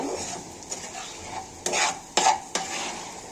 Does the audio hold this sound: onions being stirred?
yes